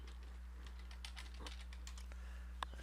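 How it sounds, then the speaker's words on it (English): Fingers tap quickly on a computer keyboard, a quiet irregular patter of clicks over a low steady hum, with no voice. "I just type in practice"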